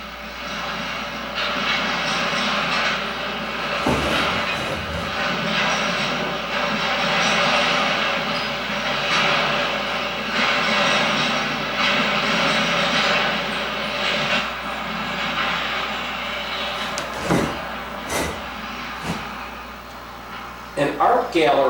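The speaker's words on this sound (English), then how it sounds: "more train action" Long train rolling past in a city setting, a sustained rumbling roar with fluctuating intensity, occasional clanks and knocks near the end.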